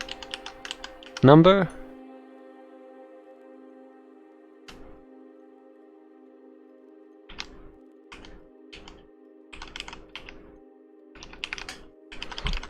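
Short bursts of computer-keyboard typing with quick clicking keystrokes, separated by pauses, over a steady electrical hum, with someone speaking briefly near the start.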